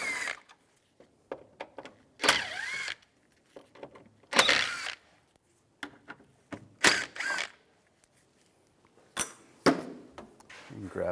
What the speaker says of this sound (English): Now we'll take these 4 screws out, use the same T30 socket.